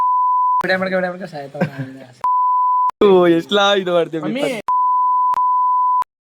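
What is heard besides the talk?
censor beep added by the editor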